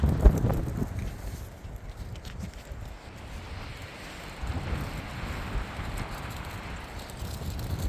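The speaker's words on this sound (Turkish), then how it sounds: "Rüzgar çok yüksek. Beni uçuracak yani." Strong wind roars and buffets steadily for several seconds, a loud rushing noise with a heavy gust at the start and no voices.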